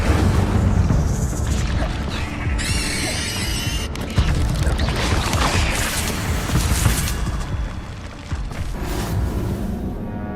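A fire spell cast in Hogwarts Legacy bursts out as a bright, crackling whoosh lasting over a second, set within dense, rumbling game effects and mechanical clatter.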